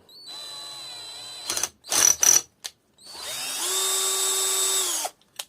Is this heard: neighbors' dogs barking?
no